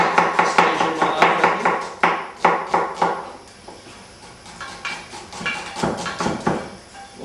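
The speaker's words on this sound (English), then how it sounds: "I'm used to chopping this fast now." A red onion being chopped fast on a board, a rapid run of sharp knife strikes that pauses briefly midway and then picks up again.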